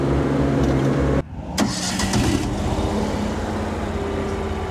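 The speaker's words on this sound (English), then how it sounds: "you can hear, the oil cooler fan" A gasoline-powered equipment machine runs close by with a steady whirring oil cooler fan and engine hum, briefly cutting out before resuming at a continuous level.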